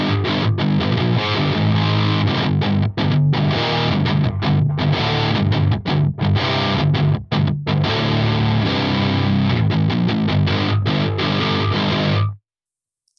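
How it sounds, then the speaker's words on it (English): A 7-string guitar played through amp distortion, loud, dense and continuous with chugging palm-muted rhythm and brief gaps, ringing out until it cuts to silence near the end. "this is the distortion that it sounds like just out of this amp"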